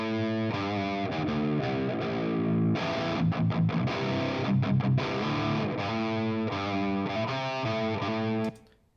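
Heavy electric guitar played through the Overloud TH-U virtual amp plugin, loud and densely distorted, with chugging palm-muted riffs and sustained power chords that stop abruptly at the very end.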